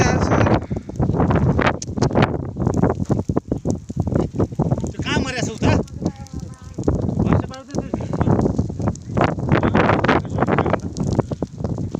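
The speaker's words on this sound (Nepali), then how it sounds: "हावा पनि यस्तो नि" Gusty wind buffets the microphone during a jungle forest fire in Rukum West, Nepal, rising and falling in heavy rushes while people talk throughout.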